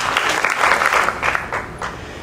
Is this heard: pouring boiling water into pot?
no